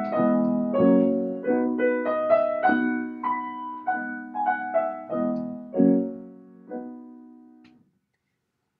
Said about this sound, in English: the second folk tune or children's tune that Debussy uses in the movement is called Nous n'irons plus au bois